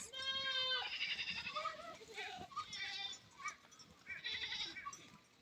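Goats grazing in the Samburu Opiroi hills bleat loudly nearby, a long wavering cry followed by several shorter calls, with other animal voices and some chatter mixed in.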